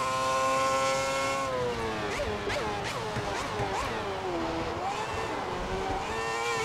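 Formula 1 race car engine in the F1 2010 racing game, a loud continuous whine with harmonic pitch sweeping up and down through gear changes and cornering, steady throughout.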